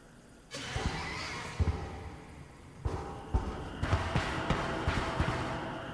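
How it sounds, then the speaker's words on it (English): Horse-like demon neighing in the horror video game Mouthwashing: loud, harsh whinnying bursts over a dense, noisy game soundscape, with several sharp hits punctuating the sound across the passage. "Is there a fucking horse demon or something?"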